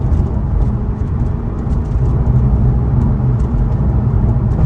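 A Porsche 996 running on a long drive after a Seafoam treatment, its engine giving a steady, continuous low drone with road rumble throughout, fairly loud and close, with no talking.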